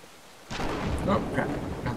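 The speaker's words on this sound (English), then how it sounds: "I get to the door, get struck by lightning, and die." Thunder from a lightning strike in the video game Brothers: A Tale of Two Sons bursts in suddenly as a deep, rumbling crack mixed with rain-like wash and brief sharper game effects.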